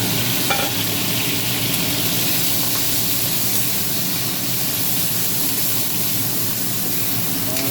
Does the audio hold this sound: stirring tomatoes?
yes